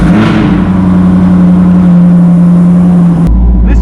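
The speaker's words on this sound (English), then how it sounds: "let's go ahead and cold start it" Car engine cold starting on a spring day, a loud steady idle with a strong low hum and whirring drone held for several seconds, then abruptly cutting to a deep low rumble near the end.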